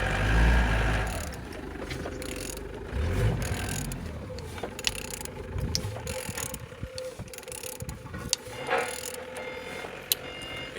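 Engine 6J767 (FL04MDJ) being turned over, with steady mechanical whirring, ratcheting clicks and gear clatter running throughout at moderate, close range, with no speech.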